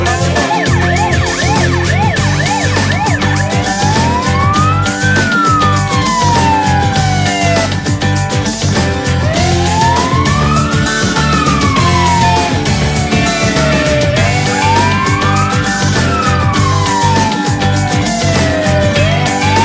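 Police car sirens wail loudly and close for about twenty seconds, several overlapping tones sweeping up and down in slow repeating cycles over a steady engine rumble.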